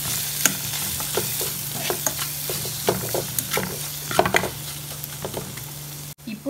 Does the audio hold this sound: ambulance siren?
no